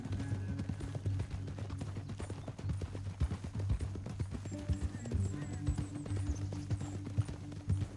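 Horse hooves galloping at a steady run across open ground in Red Dead Redemption 2, a continuous rapid clip-clop under a low musical drone, close and fairly loud throughout.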